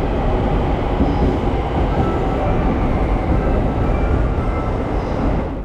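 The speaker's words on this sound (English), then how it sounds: "here comes our train, pulling into the platform around 25 minutes before departure time" A loud, steady rumble of the Sunrise Seto, a 14-car double-deck electric sleeper train, pulling into a Japanese platform close by, with dense low-frequency noise throughout and a slight easing at the end.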